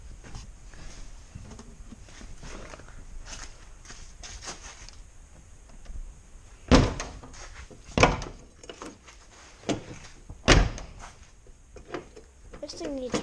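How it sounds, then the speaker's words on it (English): The doors of a classic Chevrolet Camaro are slammed hard, giving several loud, sharp thuds in the latter half, with people talking and faint movement noise before them. "This thing needs hard shutting the doors."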